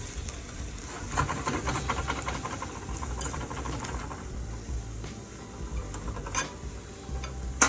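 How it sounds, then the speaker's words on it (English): Lamb chops sautéing in a pan, a soft continuous sizzle and hiss with occasional light clicks and taps, quiet and close, no voices. "I'll get this saute for about 10 to 15 minutes"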